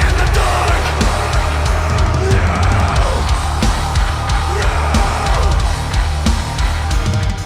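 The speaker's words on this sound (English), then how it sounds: "they're a French metal band that sounds like this" An excerpt of a song by a French metal band plays loud and dense throughout, with heavy full-range instrumentation and steady pounding hits.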